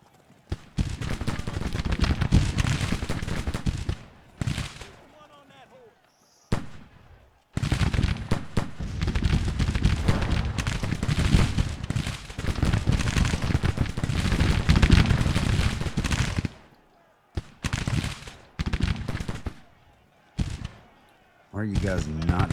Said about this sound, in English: Florida Home Guard's already firing at us